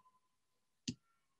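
A single accidental computer mouse click, short and soft against a quiet room with a faint steady hum, heard once near the middle.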